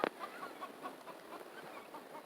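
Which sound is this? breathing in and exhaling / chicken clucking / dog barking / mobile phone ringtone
chicken clucking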